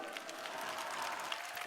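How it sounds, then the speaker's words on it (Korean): Brief, quiet applause from an audience at a company kickoff celebration, a steady patter of clapping with no voices over it. "큰 박수 한번 보내주세요."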